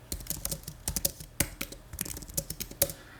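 Rapid, crisp clicking of keys on an Apple Magic Keyboard, typed in quick uneven bursts right up close, with no voices.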